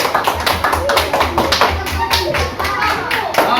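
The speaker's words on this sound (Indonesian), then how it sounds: "Kasih aplaus untuk kelompok 2" Classroom applause for a student group after their presentation, steady, close hand clapping from many people with chatter and voices running beneath it.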